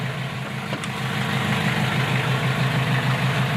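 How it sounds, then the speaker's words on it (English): A boat's engine idles steadily, a low continuous rumble with even vibration and no voices over it. "Now that the engine's running, I then turn the selector switch"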